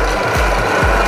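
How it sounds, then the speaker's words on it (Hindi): An iron shop machine's motor runs steadily and loudly at high speed, a dense continuous mechanical drone with repeated rasping sweeps roughly every half second, close up with no talking. "ये हो गई मोटर चालू, देख सकते हैं बहुत ज़्यादा इसमें स्पीड है।"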